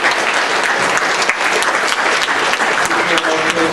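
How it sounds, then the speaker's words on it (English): A town hall audience claps in a dense, loud round of applause that runs steadily without a break, with a few voices faintly mixed in near the end. "You give him a round of applause."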